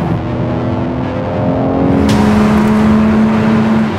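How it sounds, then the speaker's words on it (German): A 500 hp Porsche GT3 sports car accelerates hard, its engine note climbing loud and close in a sustained, rising rev with no voices. "wir geben mal Gas, die 500 PS. Jetzt macht er richtig Musik hin."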